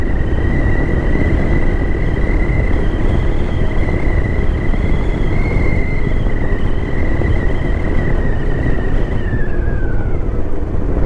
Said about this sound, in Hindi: लंबा स्ट्रेच मिल जाता है तो थोड़ा खींच लेता हूँ गाड़ी को।